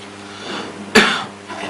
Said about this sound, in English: lastly we can ask the patient to cough.